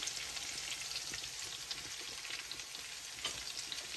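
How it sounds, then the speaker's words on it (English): Garlic frying in a pan for a Jamaican brown stew snapper, a dense, steady hiss of sizzling oil with faint stirring scrapes, close and even for several seconds. "so you add your garlic to that. You wanna let that cook down for a little bit"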